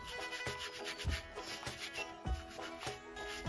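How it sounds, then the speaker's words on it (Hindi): Shoes being scrubbed with a brush while washing, repeated rough rubbing strokes in a steady back-and-forth rhythm, close and fairly quiet. "धोते जाओ ब्रश मारते जाओ शूज चमकते जाएंगे"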